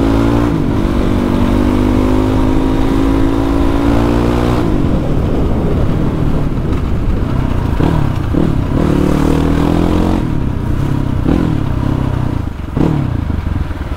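Yamaha WR motorcycle with an aftermarket exhaust revs up and down repeatedly, loud and close, rising pitch sweeps between lower idle stretches, no talking.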